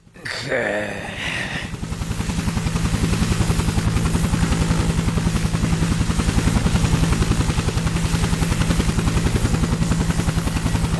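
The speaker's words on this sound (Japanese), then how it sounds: "ヘリは すぐにも到着かと" A helicopter's rotor thumps steadily and close, a rapid chopping beat with a low engine hum, after a brief burst of voices at the start.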